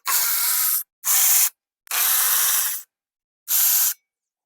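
A wrench removes 5/16 bolts from the plate of a Husky pressure washer in four loud, close bursts of buzzing, rasping mechanism noise, each under a second, separated by short silences.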